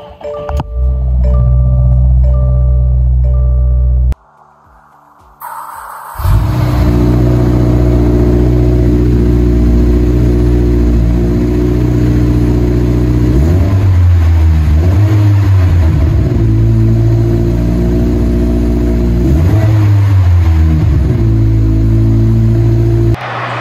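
A 2024 Subaru WRX TR engine revs and pulls hard through several rising accelerations, a deep, steady exhaust drone with shifting pitch, loud and close, no talking.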